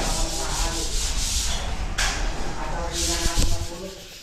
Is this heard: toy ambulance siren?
no